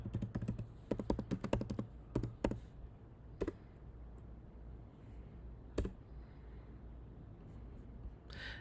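Close typing on a computer keyboard, with quick bursts of key clicks early on, then a few isolated taps separated by quiet pauses.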